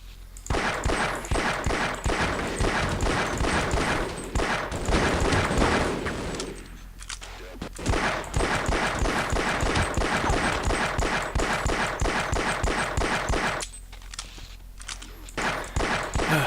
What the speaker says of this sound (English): Most of these guys aren't headshotable, so stuck plinking at them.